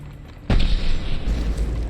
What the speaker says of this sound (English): That head explosion.